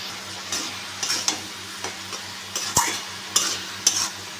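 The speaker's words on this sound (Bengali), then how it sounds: "চাল কুমড়োটা ভালো করে ভাজবো।" Ash gourd frying with turmeric, chilli powder, coriander, cumin and salt in a pan, with a soft background sizzle and several sharp scraping stirs of a spatula spread through it, close and fairly quiet.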